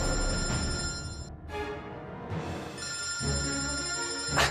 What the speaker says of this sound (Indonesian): Suara HP siapa?